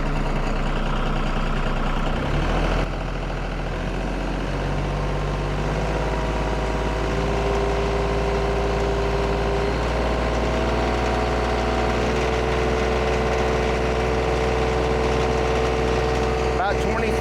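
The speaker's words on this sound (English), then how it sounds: "the first thing we're going to do is rev this thing up a little bit" A TYM 2515 25HP tractor engine runs close by in a steady rumble. It climbs in pitch and holds higher as it revs up.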